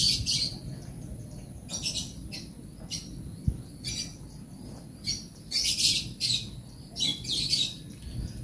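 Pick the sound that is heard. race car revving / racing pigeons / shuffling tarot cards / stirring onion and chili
racing pigeons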